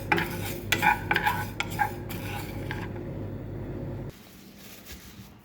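Flax seeds frying in a pan while a utensil stirs them, giving a run of close scraping clatters over a soft sizzle that fades near the end.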